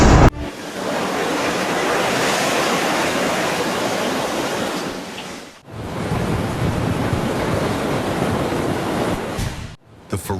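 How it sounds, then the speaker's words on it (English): Ferocious ocean waves crash onto a coastline, a loud, dense roaring wash that fills two long surges separated by a brief break, with no voices. "The ferocious waves slammed into the shore, flattening houses and shops along the coast."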